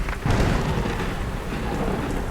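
Heavy thunderstorm with steady pouring rain and a deep rumble of thunder building early, loud and continuous with no voices, setting a stormy night scene in a Bengali village horror story.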